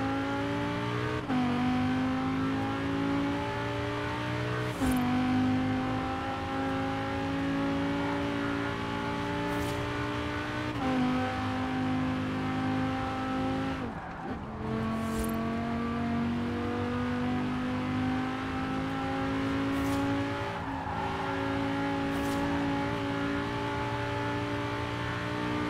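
A Lamborghini Huracan V10 in the racing game Forza Horizon 4 drones steadily and loudly throughout, its engine note climbing through the gears with brief dips at each shift, with no voices over it.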